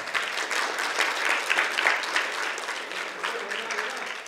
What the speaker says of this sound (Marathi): तेजराव तायडे मामांसाठी टाळ्या वाजवून स्वागत करा.